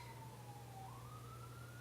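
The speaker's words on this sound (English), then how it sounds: "excuse the sirens there in the background." An emergency vehicle siren wails faintly in the distance, a single slowly gliding tone that dips and rises over a steady low hum, with no one speaking.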